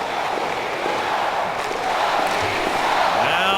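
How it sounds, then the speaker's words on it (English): Hockey crowd at the Staples Center during a Blackhawks–Kings game, a broad steady roar of cheering that swells slightly toward the end, with faint calls rising above the arena din. "The crowd for the first time has come to life here in the Staples Center."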